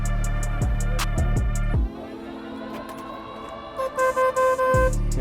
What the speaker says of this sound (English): You have to get you a little horn there